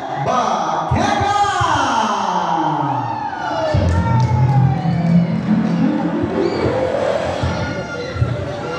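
A crowd at a barangay fiesta cheers and shouts for a trio of comedians, a loud, sustained roar with whoops and yells, carried under an announcer's voice.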